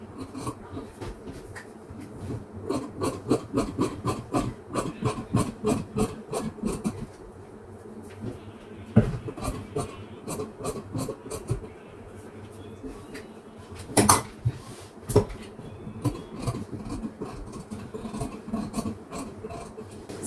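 Scissors cut fabric for a school uniform shirt in rapid rhythmic bursts of crisp snips, close up, with pauses between runs and a few louder handling knocks.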